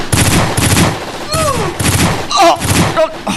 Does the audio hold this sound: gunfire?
yes